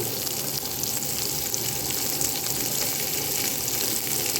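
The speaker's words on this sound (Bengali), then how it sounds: "আর এর সাথে দিয়ে দিব পেঁয়াজ কুচি পেঁয়াজ কুচি দিয়ে দিচ্ছি" Chopped onion hitting hot oil with dried chilli in a pan for a lentil dish with eggplant and beans, a dense continuous crackling sizzle held close and even throughout, with no speech.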